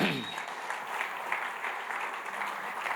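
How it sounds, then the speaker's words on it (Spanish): A church congregation applauds during a Sunday service, a dense, steady wash of many hands clapping at fairly close range that holds evenly throughout. "déjale un aplauso al Señor"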